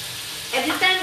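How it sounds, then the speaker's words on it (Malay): Pre-boiled eggs dropped into hot oil, a sudden close sizzle that swells in two bursts over a faint background, with a voice nearby. "Kemudian I goreng."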